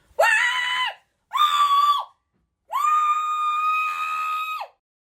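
A human voice imitates the high-pitched scream of the Pokémon Victreebel with three shrill, sustained screeches separated by short silences, the last one the longest.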